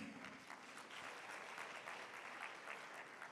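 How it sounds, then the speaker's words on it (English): Sustained round of applause from a conference audience for a speaker at a large gathering, dense and even clapping from many hands, fairly distant and continuous throughout. "A round of applause for Jen,"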